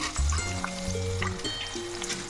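Chana dal and mustard seeds hit hot oil for amla pickle, giving a bright, crackling sizzle close up, with a few soft clinks and stirring sounds in a home kitchen.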